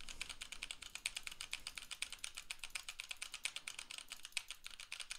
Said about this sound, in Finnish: Otetaan tähän loppuun sitten vielä ääniesimerkki siitä, miten noin näppäimistö ja hiiri täältä kuuluu läpi.